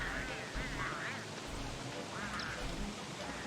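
Bird calls from Don't Starve Together, a few short quacking, duck-like squawks in bursts over steady game ambience, with a voice speaking at times.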